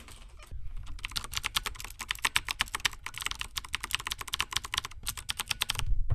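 Fast, irregular keystrokes on a computer keyboard at close range, a steady patter of clicks with short pauses, heard through an sE Electronics V7X dynamic microphone.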